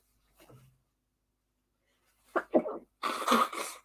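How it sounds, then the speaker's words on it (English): A single close sneeze indoors, a short sharp burst followed by a louder explosive release, coming after a faint breath in an otherwise quiet room. "I need to sneeze."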